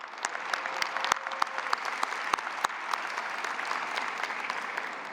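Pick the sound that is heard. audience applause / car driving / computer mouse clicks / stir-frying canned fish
audience applause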